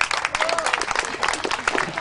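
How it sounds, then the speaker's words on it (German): An audience at a summer party show in Ludwigshafen applauds with dense, steady clapping that carries on for the full two seconds. "Applaus!"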